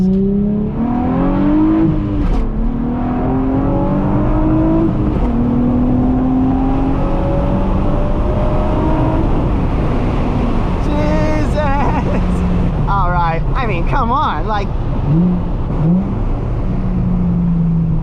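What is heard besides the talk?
Nissan 350Z engine accelerating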